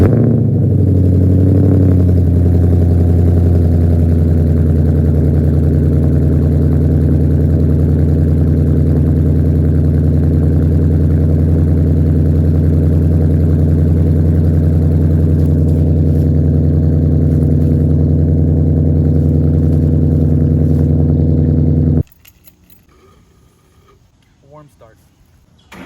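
A car with a leaking exhaust cold-starts with a brief burst, then idles loud and steady for about twenty seconds before abruptly shutting off, leaving faint background noise.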